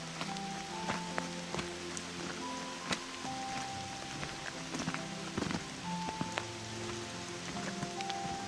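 Rain falls steadily around lakeside picnic tables, a constant hiss with scattered close drips and taps, no voices.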